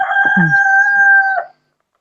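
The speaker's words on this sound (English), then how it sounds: "the rooster wants to shine" A rooster crows once, loud and close, a single sustained cock-a-doodle-doo that ends abruptly into silence.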